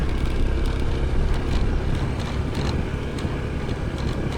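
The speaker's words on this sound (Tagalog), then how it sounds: "River crossing." Vehicle or motorbike driving through a shallow stream on a rural road to Sitio Quitoba, with steady broadband water rush and engine rumble throughout plus wind buffeting on the microphone, no voices.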